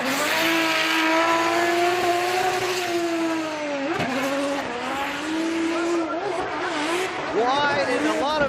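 A Lexus drift car at a Formula Drift Japan event screams at high revs with a sustained engine note, rising and falling with loud tire squeal, while a commentator talks over it throughout.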